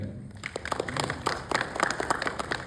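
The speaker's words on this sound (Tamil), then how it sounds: "எத்தனை பேர் கீழ் கைத்தட்டிருங்க" An audience at a Tamil debate event claps and applauds steadily throughout, a dense patter of many hands that builds slightly toward the end.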